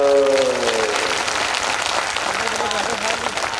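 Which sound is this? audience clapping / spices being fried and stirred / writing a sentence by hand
audience clapping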